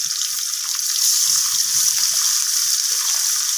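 Small mola fish coated in turmeric and salt fry in hot mustard oil, giving a loud, steady hiss that runs unbroken from start to finish, close up and free of voices.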